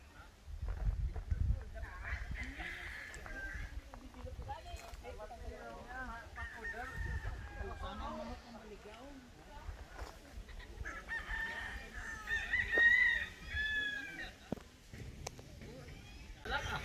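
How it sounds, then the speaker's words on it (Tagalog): Chickens on an eight-hectare farm in Guimaras, with roosters crowing and hens clucking at mid distance, recurring across the clip under steady outdoor noise and people talking. "Ang daming manok."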